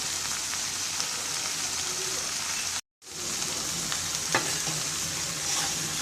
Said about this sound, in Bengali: মশলা দিয়ে ভালো করে মিশিয়ে নিই